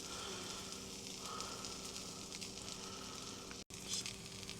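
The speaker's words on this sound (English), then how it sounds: "It's not sizzling quite as loud, but wait till it gets a little quiet." A sandwich fries in butter in a pan, giving a soft, continuous sizzle that is fairly quiet and steady, broken by one brief dropout near the end.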